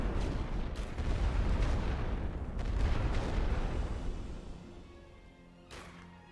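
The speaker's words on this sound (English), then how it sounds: "So we've got artillery fire coming in" Artillery fire in a Great War trench-warfare video game, a loud rolling barrage of deep booms and rumbling blasts that gradually fades, with a sharper distant thud near the end.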